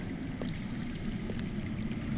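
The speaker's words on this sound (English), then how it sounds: "I hear water. From underground." Underground water flowing in a video game, a steady low rushing stream that holds level and fills the whole moment with no voices over it.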